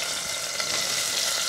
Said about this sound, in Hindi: यहाँ पे हमारा प्याज भून रहा है